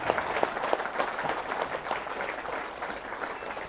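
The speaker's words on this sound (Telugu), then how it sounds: "ఒకసారి గట్టిగా చప్పట్లు కొడదాం." An audience at a live meditation and youth event claps loudly, with dense, sustained applause that fills the room and tapers slightly toward the end.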